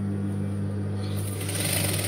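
A sewing machine stitches fabric in a steady, close mechanical whir with a low hum beneath it, rising brighter and faster partway through, with no voices.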